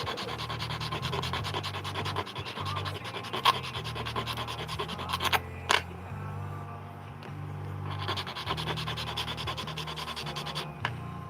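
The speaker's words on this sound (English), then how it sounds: "so I'm going to file it down a little" A hand file rasping down a small metal nub on an audio jack, making steady back-and-forth scraping strokes, close and moderately quiet, with a couple of brief pauses between runs.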